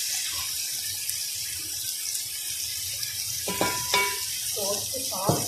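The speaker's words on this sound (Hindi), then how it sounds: "सब्जी को मैं सिर्फ 1 मिनट के लिए फ्राई करूँगी। आँच मैंने तेज़ कर दी है" Vegetables and chicken fry in a pan over high heat, giving a continuous bright sizzle with occasional clinks and stirring sounds close up, and a faint voice briefly in the background.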